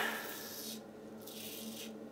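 A Wet Shaving Club 'Merica safety razor with a diamond edge blade scraping across stubble, a close, quiet raspy stroke sound repeated in several short passes with brief gaps between strokes.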